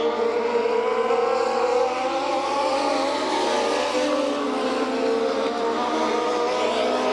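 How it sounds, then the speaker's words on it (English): Legends race cars, including a 1937 Ford-bodied car, powered by 1200cc Yamaha motorcycle engines, roar around a Bakersfield, California oval in a steady, loud, continuous engine drone with no pauses. "All these are powered by 1200 cc Yamaha motorcycle engines."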